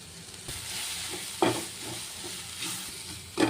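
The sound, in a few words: sautéing spiced mushroom stuffing in a pan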